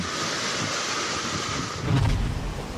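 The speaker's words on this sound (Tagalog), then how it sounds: "Hinagupit naman ng mataas na alon ng baybayin sa Samar." High waves crash against the coast of Samar with a continuous roar of surf and wind buffeting the microphone, growing heavier and closer near the end.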